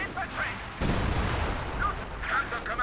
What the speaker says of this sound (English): Artillery going in, looks like a priest has been summoned here